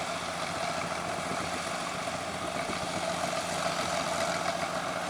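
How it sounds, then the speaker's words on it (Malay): A tracked tractor's engine rumbles steadily at idle, close and constant, while it tows another tracked tractor stuck on a road in Bongor, Mudong. "Okey, nampaknya traktor bantuan dah sampai."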